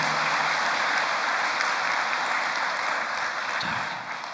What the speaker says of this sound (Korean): 감사의 박수 한번 올려주시면 고맙겠습니다